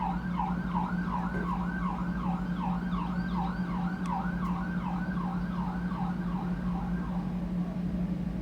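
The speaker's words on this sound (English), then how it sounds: "and then this fucking siren starts going off" A wailing siren rises and falls repeatedly and steadily over a constant low rumble of traffic, loud and continuous throughout.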